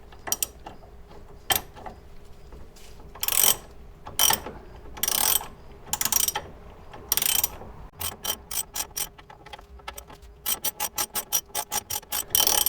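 Ratchet being cranked to raise a part during a front suspension install (steering knuckle, shock, hub) on a C3 Corvette, giving bursts of close, loud clicking that speed into rapid even ticks toward the end.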